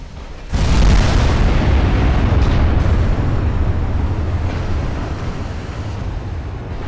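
A heavy boom bursts out suddenly and loudly, then rolls into a long rumbling roar that slowly fades, as a ship explodes in a naval battle in the Ultimate Admiral Dreadnoughts video game.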